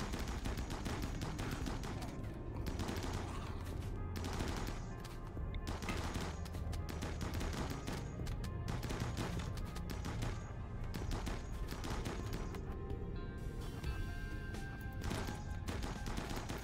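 Gunfire in the RimWorld colony game, a steady run of repeated crackling shots in short bursts, quiet and distant in the mix, continuing for over fifteen seconds.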